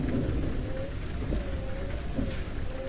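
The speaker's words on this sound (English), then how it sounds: "Oh, steady rain." Steady rain pattering in Euro Truck Simulator 2, with a low continuous rumble of distant thunder and truck noise underneath throughout.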